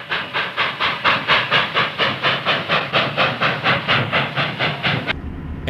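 An L&N M1 steam locomotive on a 1956 excursion from Cincinnati to Ravenna chuffs and hisses in loud, even rhythmic bursts, close by, before cutting off abruptly near the end.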